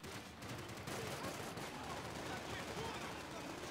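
Rapid, dense bursts of gunfire fill a Max Payne 3 firefight, steady and fairly quiet, with a player talking over the shooting.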